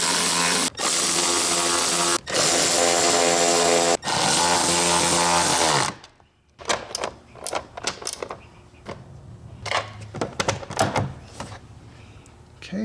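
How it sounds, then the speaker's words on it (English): A power tool driving an 8mm socket on the air filter housing of a Jeep JL Wrangler, loud whirring bursts for the first six seconds, then quieter clicks and handling knocks of parts. "we're going to use an 8mm socket to get this thing secured in place"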